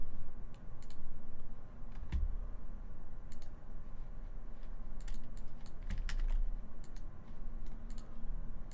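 A computer keyboard being typed on during a programming session, with quiet, irregular clicks and a few sharper key strikes scattered over a low steady background hum and no talking.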